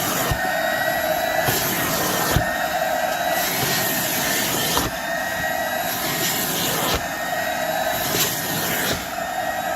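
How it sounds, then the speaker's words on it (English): A carpet-cleaning machine's vacuum whines steadily and loudly, with a broad roar and sustained tones, as it raises carpet fibers inside a minivan, with brief clicks or pauses in the suction. "This vacuum on this unit is just a little better than what you're seeing out of a vac."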